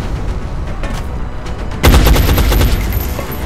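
Loud gunfire in the turn-based strategy game XCOM: Enemy Unknown, a sudden heavy burst of shots erupting partway through and ringing on over dense battle noise.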